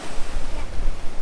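Surf washes and rumbles close by at a beach, a loud churning roar with small swells in level and a touch of wind on the microphone.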